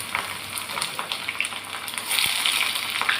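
Onion hits hot oil with mustard seeds in a heated kadai and breaks into a loud, spreading sizzle that swells toward the end, with faint scrapes and ticks nearby and no talking.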